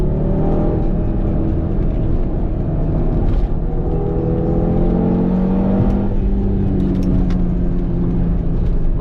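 An Audi TT RS engine drones loud and steady through a race track lap, its pitch sliding down under braking and then climbing again as it pulls out of a corner.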